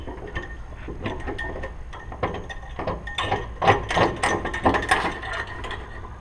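Ratchet tightening threaded four-bar bolts on a '62-'67 Chevy Nova, a steady run of close, sharp clicks that quicken and grow louder toward the end over a low background hum.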